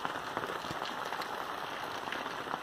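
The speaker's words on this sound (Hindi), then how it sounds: "एंड बारिश हो रही है, मैं आपको बारिश दिखाता हूँ।" Steady rain pattering on surfaces near a roadside tea stall, a faint, dense hiss of drops with scattered louder taps, with no voices.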